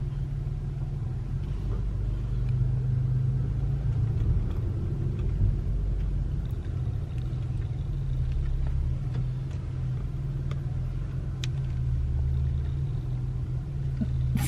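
A car engine rumbles low and steady while the car is driven slowly along a road, a constant unbroken drone with no voices over it.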